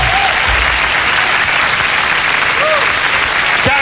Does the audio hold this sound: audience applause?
yes